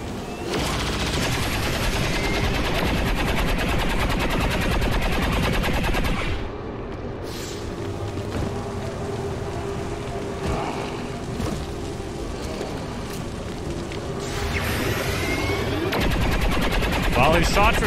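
Dense, continuous gunfire in the modded video game XCOM 2, sustained rapid bursts with explosive crackle that dip slightly midway before swelling again, loud and unbroken throughout.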